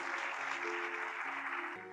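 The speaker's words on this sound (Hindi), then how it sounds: "तो भरपूर तालियां बजाएं खुदा के अजीम खादमों के लिए" Congregation clapping for the pastors at a church service, a dense continuous wash of applause with a sustained musical tone running beneath it.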